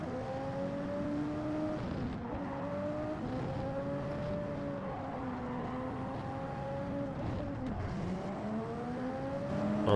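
Race cars from the video game Gran Turismo 7 drone continuously at close range through a turn, their engines wavering up and down in pitch with several cars bunched together and some light contact.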